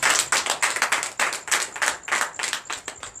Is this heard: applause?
yes